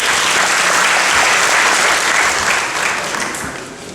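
Loud, dense applause from a large audience at a formal ceremony, a continuous wash of clapping that holds steady before gradually thinning and fading toward the end.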